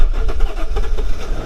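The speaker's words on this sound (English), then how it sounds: "now let's see if this thing starts right up." A Mercedes S550 engine cranks and catches, settling into a rough, uneven idle with low rumbling pulses that stay steady and loud throughout.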